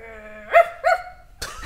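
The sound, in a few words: person imitating wolf growling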